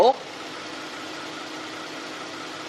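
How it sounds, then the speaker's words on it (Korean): A smooth, quiet six-cylinder Genesis G90 sedan engine idling steadily at close range, a soft even hum after a brief sound at the start. "6기통에 정말 부드럽고 정말 정숙합니다 바로 엔진 소리 한번 들려드릴게요."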